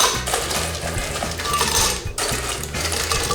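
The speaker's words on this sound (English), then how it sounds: "into a blender, I'm going to throw in some ice" Ice cubes tumble into a blender jar, rattling and clinking steadily with sharp knocks for several seconds, close and loud.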